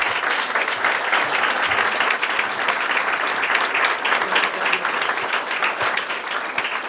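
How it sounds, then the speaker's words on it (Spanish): A loud, dense round of audience applause at a scholarship award ceremony, with many hands clapping steadily and evenly and no break in the sound. "Y les pido un fuerte aplauso."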